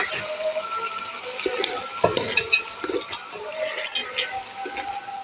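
Tomatoes sizzle in a hot pan while being stirred, a steady frying hiss broken by scraping and clinking of the spoon against the pan.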